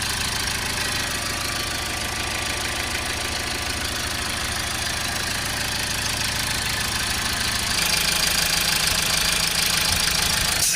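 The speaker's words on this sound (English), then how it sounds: "I'm going to run the engine and we'll spray the rest of it in." A Toyota RAV4 2.2 D4D diesel engine with a particulate trap efficiency fault runs steadily throughout, a low rumbling idle that grows slightly louder and rougher near the end as the revs rise.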